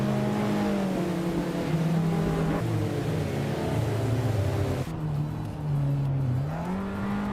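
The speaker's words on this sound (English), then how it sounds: "the race kicks off at Surfer's Paradise, and in the lead we've got Lamborghini Tube in a 2005 Alfa Romeo Brera" Race cars in a video game pull away at the start at Surfer's Paradise with a 2005 Alfa Romeo Brera in front, a steady loud engine drone rising and shifting pitch, with a sharp gear change partway through.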